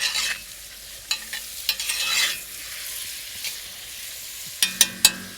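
Fennel seeds toasting in a hot pan, a steady close sizzle with scattered clicks and pops from the seeds shifting, and a few sharper clinks near the end.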